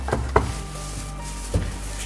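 A knife cuts through a sushi roll with cheese, making a few soft, close thuds on a cutting board that are spaced apart over a low, steady hum.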